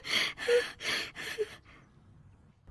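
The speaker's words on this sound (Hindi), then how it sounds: "अपना गला साफ कर रहे हैं।" Four harsh, raspy throat-clearing bursts from a cartoon character in quick succession, close and loud, then fading into near silence.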